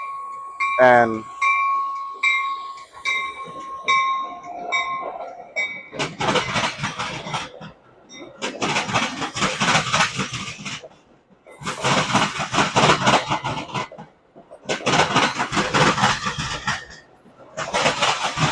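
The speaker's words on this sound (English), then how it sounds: "that right there was a metro train crossing the CSX and Norfolk Diamond" Metra commuter train crossing the CSX and Norfolk railroad diamond at Ashburn, Chicago: a horn sounds first, then loud, evenly spaced bursts of clattering wheels pound across the crossing one after another.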